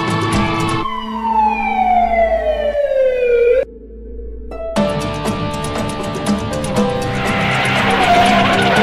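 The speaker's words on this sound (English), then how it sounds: "there are like 6 police cars coming" Police car sirens wailing loudly and close, a sweeping tone gliding downward, a short break, then several overlapping steady siren tones returning, suggesting multiple vehicles.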